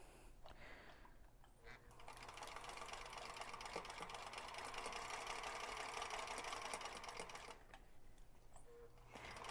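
A sewing machine runs a long continuous seam on a large quilt block, its rapid needle hum steady for several seconds after a few slow starting stitches, then stopping near the end, close and moderately quiet.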